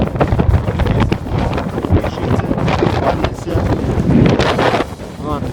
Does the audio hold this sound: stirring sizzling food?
no